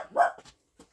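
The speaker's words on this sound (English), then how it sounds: "That's my dog making a nuisance out of herself." A pet dog gives one short, close bark followed by a faint brief yip, heard alone indoors in a reloading workshop with a Lee powder measure.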